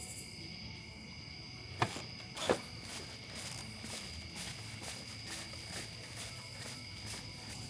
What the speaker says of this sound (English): Just hear crickets.